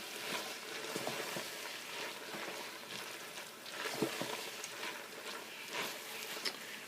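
Tofu being stirred back into a hot frying pan for a chili, giving a steady, moderately loud sizzle with scattered scraping and crackling throughout.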